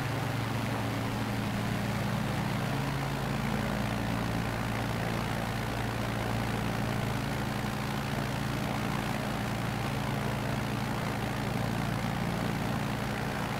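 Steady, droning engine hum of a bush plane in flight in Microsoft Flight Simulator 2020, a constant loud propeller drone with no change in pitch throughout.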